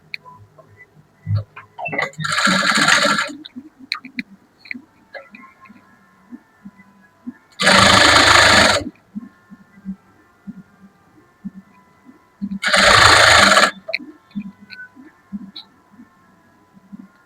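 A sewing machine stitches a folded fabric edge in three short, evenly spaced buzzing runs, with soft handling sounds and a quiet voice in the gaps between them.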